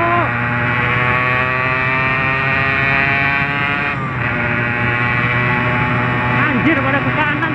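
An old two-stroke motorcycle engine revs hard while riding, a loud, steady, buzzing whine that rises and falls in pitch as the throttle opens, with talk over it.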